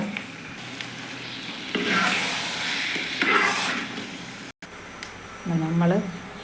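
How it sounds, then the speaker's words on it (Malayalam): Ghee poured into a pan of cooking dates sizzles steadily while a spoon stirs and scrapes through the mixture, with a short break and a voice speaking near the end. "നമ്മൾ ഈത്തപ്പഴം വരുന്ന ഇതിനകത്ത് നമ്മൾ ഒരു ബൗൾ നെയ്യും കൂടെ ഒഴിച്ചു കൊടുത്തു."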